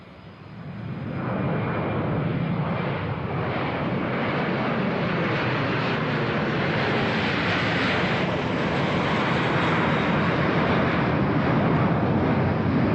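An Embraer KC-390 Millennium military transport jet takes off, a broad steady engine roar swelling in over the first seconds and holding loud and distant-sounding to the end, with wind buffeting the microphone.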